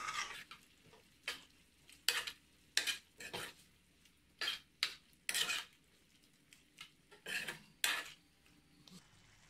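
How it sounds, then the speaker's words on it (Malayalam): A spoon stirs mango and ginger pickle in a metal pot on the stove, making a string of about a dozen short, scraping clinks in an uneven rhythm, close and clear with no talk. "ഇനി നമുക്കിത് നന്നായിട്ട് ഒന്നും കൂടെ ഒന്ന് മിക്സ് ചെയ്ത് കൊടുക്കാം."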